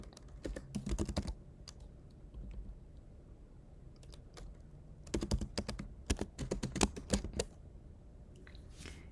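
Keys clatter on a computer keyboard in bursts of quick typing, a short flurry near the start and a longer run later, close and fairly quiet with no talking.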